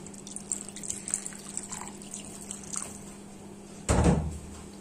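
Warm water poured into a cooking pot in a home kitchen: a short, loud splashing gush near the end, after a quiet stretch of faint kitchen background.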